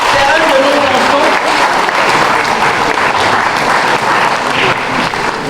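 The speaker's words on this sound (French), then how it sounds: "Je pense qu'il faut l'acclamer" An audience at a Cameroonian gastronomy evening gives sustained, dense applause, loud and close for the whole stretch, with a voice talking faintly underneath.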